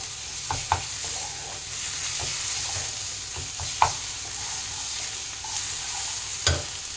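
A spatula stirs hilsa fish with salt and turmeric in a pan, giving soft scrapes and a few sharp clinks over a steady sizzle, with no voices.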